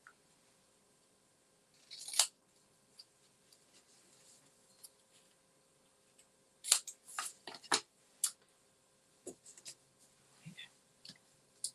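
Scissors snipping paper for a Christmas gift tag, a few short quiet cuts scattered among pauses, close and faint.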